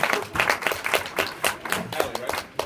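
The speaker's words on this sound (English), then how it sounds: "Give her a round of applause." A live audience bursts into applause, dense clapping with a few shouts mixed in, steady and fairly close for a few seconds.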